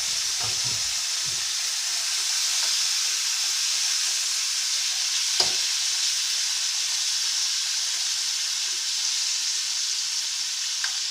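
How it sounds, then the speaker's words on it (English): Steady, loud sizzle of beef pieces frying in a pan for beef and broccoli, a continuous hiss with a few faint clinks and stirring sounds. "go ahead and just throw the meat in there"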